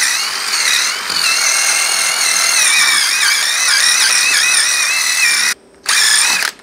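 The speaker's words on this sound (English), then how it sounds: "What an impact driver does when it gets resistance on it, it starts doing a hammer work like an impactor" Loud, continuous rattling whir of an impact driver hammering against resistance, with a brief stop and restart near the end.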